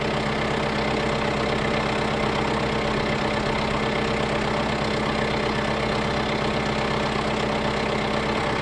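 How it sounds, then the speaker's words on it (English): Loud, constant tractor engine idle with a steady low rumble and even throbbing, running alone with no talk. "But just the tractor idling itself is only about 77"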